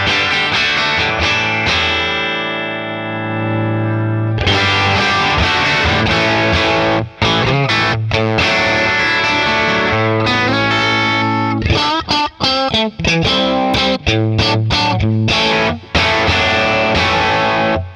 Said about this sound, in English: the harder you push the gain, the more, you know, crunch you're going to get out of it.